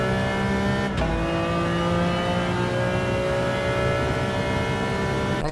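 A McLaren engine in the racing game Test Drive 6 runs steadily at high revs, a loud sustained drone with a brief dip near the start, alone with no voices.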